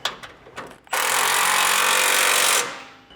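A power tool, likely an impact wrench, runs in one steady, loud burst of about two seconds as nuts are cranked down on a catalytic converter shield under a Tacoma. A few light metallic clicks come first.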